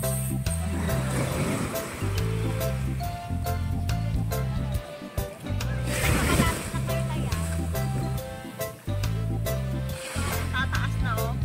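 Sea waves roll in on a beach in a continuous heavy wash, loud and close, with surges and a boat engine droning low beneath the surf.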